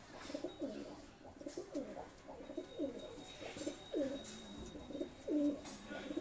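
High flying pigeons with red eyes, a pair, coo in repeated soft, throaty phrases, close by and clear against light background noise, with brief pauses between calls.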